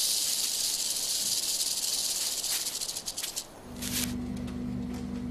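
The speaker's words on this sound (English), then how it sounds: "The squirrels listen to the rattle." Rattlesnake shaking its tail rattle in a continuous dry, high hiss that briefly falters, then resumes over a low steady hum.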